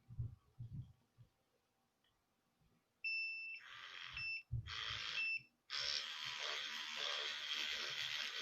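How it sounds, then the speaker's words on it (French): An electronic device beeps in clipped, repeated tones, two short bursts followed by a longer sustained sound, after some low background thumps and faint noise in a quiet room. "Vous entendez en fait les bips, c'est pas moi qui l'arrête"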